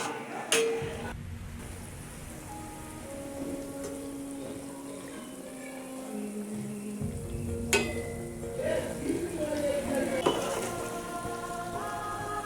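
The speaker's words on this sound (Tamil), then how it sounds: "அதை அப்படியே திருப்பி கொஞ்சம் சூடானோடனே திருப்பி போட்டு கொஞ்சம் ப்ரௌன் கலர் வரும் வரைக்கும் கொஞ்சம் ரோஸ்ட் பண்ணி அப்படியே எடுக்கணும்" Bread slices roast in a hot pan, giving a soft, continuous sizzle with occasional clinks and sharp taps as the pieces are turned, fairly quiet throughout.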